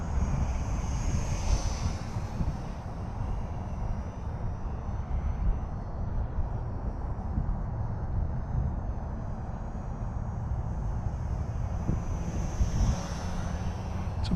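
An Eachine Mini T-28 RC plane with a brushed motor buzzes steadily in flight in cold outdoor air, rising as it passes nearer and fading between, under rough wind noise on the microphone.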